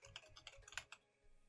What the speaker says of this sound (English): you can probably hear my